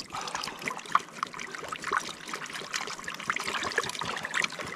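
Cold snowmelt river water trickles and splashes during gold panning, a close, busy babble of small drips and gurgles with a few sharper splashes and no talk.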